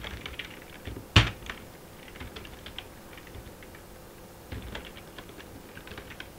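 Fingers typing Python code on a computer keyboard, a loose run of soft close key taps with one sharp louder clack near the start, no talking.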